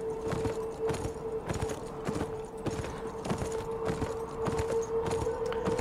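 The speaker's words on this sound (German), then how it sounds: "Und das Pferd, das büxt mir hier fast raus." Horse hooves clip-clop at a steady, regular pace across open desert terrain in the video game Beyond: Two Souls, a rhythmic series of close, distinct thuds over a faint continuous tone.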